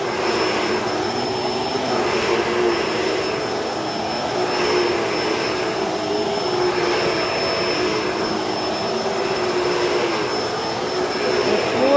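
A Shark Vertex vacuum cleaner running over an outdoor rug, with a steady, loud motor whine and a thin high tone, rising and falling gently in regular surges as it is pushed back and forth.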